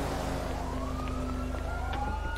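A police siren wails steadily at moderate distance, its pitch rising and sweeping over a low engine hum.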